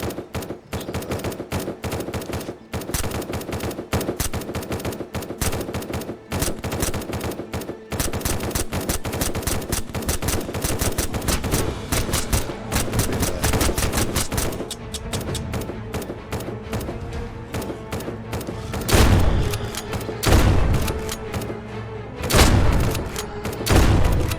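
Loud automatic gunfire in the video game Surroundead, with long rapid bursts filling the scene almost without pause and heavier booming shots near the end; no speech.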